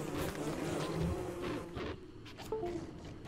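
A swarm of bees buzzes in the game Don't Starve Together, a faint, steady droning hum lasting a few seconds with no speech.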